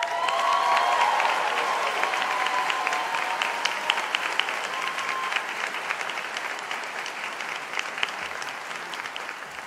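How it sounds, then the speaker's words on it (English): Sustained applause from a crowd at a university arts and social sciences graduation ceremony fills the room, dense and even, slowly tapering slightly over its length. "we've spent a while clapping for each of you"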